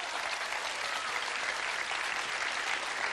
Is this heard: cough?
no